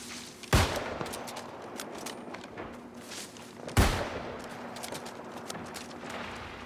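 Musket fire in the video game New World Aeternum: two loud, booming single shots about three seconds apart, each with a sharp attack and a decaying tail, over a low background of game ambience.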